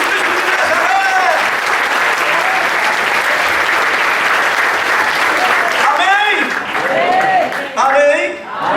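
Sustained loud applause from a church congregation at an evangelical service, many hands clapping steadily while a voice shouts over the crowd near the end.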